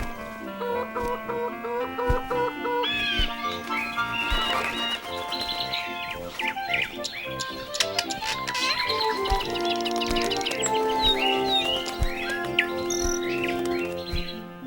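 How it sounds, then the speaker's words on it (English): Cartoon birds chirp and cluck over a bright music score in a children's Bible animation, a rooster-like call among quick tweets and melodic notes running throughout. "and more birds"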